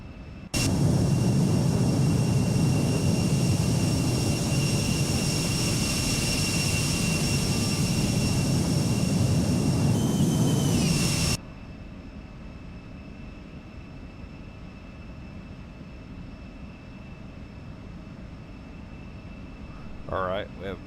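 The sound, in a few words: Embraer E175 jet engines running, X-Plane 12 video game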